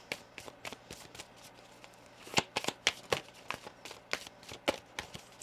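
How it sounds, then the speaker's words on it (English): A tarot deck being shuffled by hand, a quick run of crisp riffling and slapping bursts in an irregular rhythm, close and fairly clear in a quiet room. "One more shuffle here."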